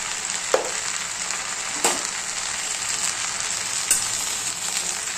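Fenugreek greens fry in a pan with a steady sizzle, and a spoon scrapes and stirs through them a few times at irregular intervals.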